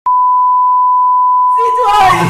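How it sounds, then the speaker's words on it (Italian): A loud, steady censor beep holds one pure tone for about two seconds, then a voice starts talking over its end. "Se non la dicevi ci piazza un bel bip sopra e il problema è risolto."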